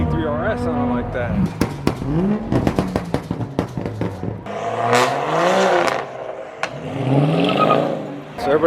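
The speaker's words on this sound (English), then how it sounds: "Everybody's starting to cut up a little bit, getting the exhaust going" Several car engines, including a Porsche GT3 RS and a straight-piped BMW M4 F82, rev and rumble in bursts, with sharp exhaust pops, while people talk nearby over the noise.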